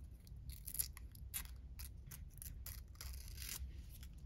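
Paper for a collage picture frame being handled and torn in a craft setting, a close series of short crisp rips and crinkles in an irregular rhythm, quiet and without talk.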